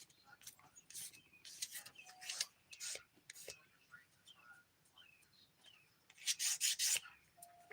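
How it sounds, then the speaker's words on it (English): Fingernail edges smoothed with the 180 grit side of a nail file, giving short, close raspy strokes in bursts with brief pauses between them, a final fast flurry near the end. "I'll switch back over to the 180 grit side just to smooth, make sure the free edges are nice and smooth."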